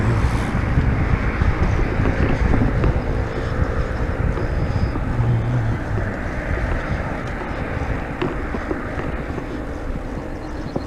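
Roadside traffic on a fast road, the A19, a continuous low rumble of passing vehicles mixed with gusty wind noise on the microphone, steady and fairly loud with no speech.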